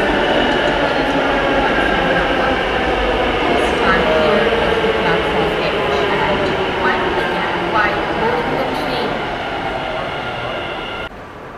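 Ride aboard Bengaluru's Yellow Line driverless metro train, a steady loud rumble of wheels and car noise filling the space from inside the carriage, with a faint whine and soft clatter, easing slightly before ending abruptly.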